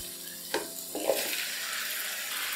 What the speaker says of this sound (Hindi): और चिकन को भून लेंगे इसके साथ